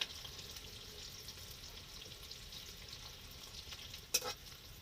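Onions frying in a pan for an Assamese-style pork dry fry, a faint, even sizzle throughout with one brief utensil clink near the end.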